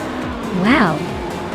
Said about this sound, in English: Zaman is racing a Group 5 1973 Ford Escort Mark on Zaxby